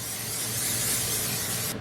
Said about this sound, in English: Take some spray oil and spray the bottom heavily so nothing will stick.